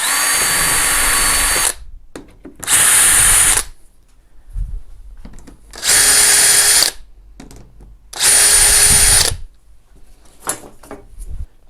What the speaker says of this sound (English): Then get a self-centering drill bit.